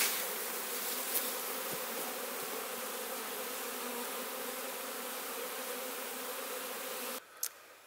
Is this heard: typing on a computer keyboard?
no